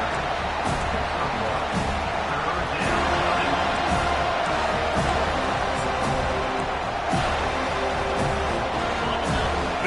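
A football stadium crowd roars in a dense, continuous wash of noise during a game, steady and loud throughout, with faint whoops and thuds scattered within it.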